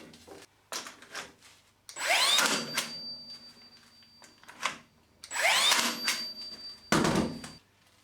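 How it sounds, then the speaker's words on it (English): A Tacwise Ranger 2 angled finish nailer fires nails through plywood into solid oak, giving three loud, close bursts with a whirring rush around each shot and quieter handling noises between them. "even on hard wood, it fires in the nails absolutely no problem at all"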